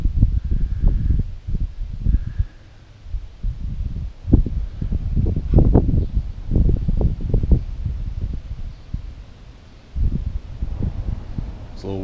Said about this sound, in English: A little windy outside, so you hear that.